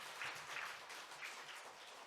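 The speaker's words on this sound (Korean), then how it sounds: "하나님께 뜨겁게 감사 박수 드립니다." A church congregation applauds in thanks at a Sunday service, with a steady wash of many hands clapping together, moderately loud and filling the room, with no one talking over it.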